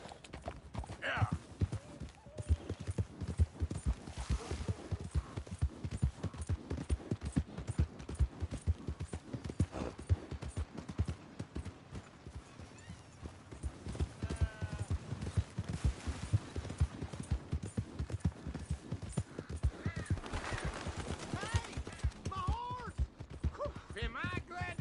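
Horse hooves clip-clop at a steady rhythm in the Western video game Red Dead Redemption 2, running throughout under game dialogue, with bursts of gunfire in the mix.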